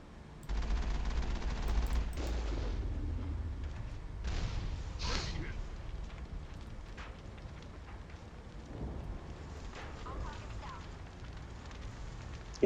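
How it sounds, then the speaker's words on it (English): Gunfire from enemies firing at the Mako armored vehicle in the video game Mass Effect: rumbling blasts and crackling bursts of shots, loudest early on and then fading, mixed with someone talking over the game. "Oh shit, there's still one shooting at me."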